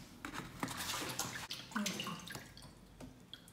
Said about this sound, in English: It's always good to use salt to wash your meat